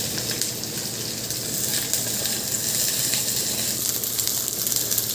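Potatoes and cauliflower fry in a pan, giving a steady, close, loud sizzle and hiss that holds evenly throughout with no talking.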